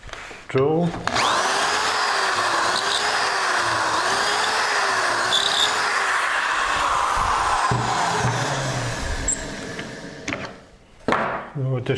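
A power drill bores a 3/4-inch-deep dowel hole through a doweling jig into the wood of a chair's rear frame. It gives a loud, steady whine for about ten seconds, then winds down, followed by a few clunks.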